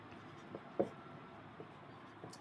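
Chalk or pen strokes writing a maths equation on a board, several soft taps and scrapes spaced irregularly, near and quiet.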